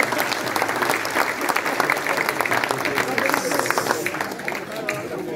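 An audience at a Rassemblement National political rally in Perpignan bursts into dense, sustained applause that stays loud and even from start to finish, with crowd noise mixed into the clapping.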